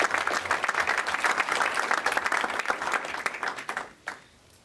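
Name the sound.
audience applause for panelists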